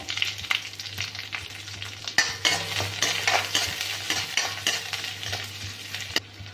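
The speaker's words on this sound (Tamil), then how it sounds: "கருவேப்பிலையை நல்லா பொரிச்சிட்டு பச்சை மிளகாய், பூண்டு, இஞ்சி பொடியாக கட் பண்ணதை ஆட் பண்ணிடுங்க" Curry leaves, chopped green chilli, garlic and ginger fry in hot oil in a pan, giving a steady close crackling sizzle with the scrape of stirring throughout and a few sharper pops.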